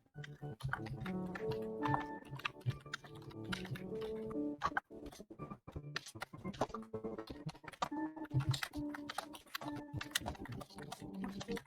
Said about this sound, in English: Hold on. I'm typing it out.